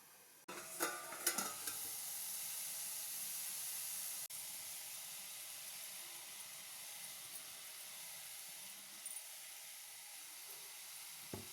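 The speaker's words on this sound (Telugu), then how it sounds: "ఇప్పుడు ఇది బాగా పట్టేలాగా అంతా ఫ్రై చేసుకుందాం" Garlic and cluster beans sizzle steadily in a hot pan, close and continuous, with a few clattering stirs near the start.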